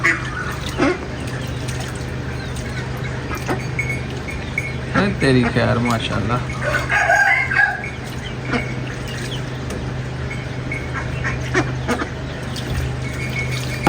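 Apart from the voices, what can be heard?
ducks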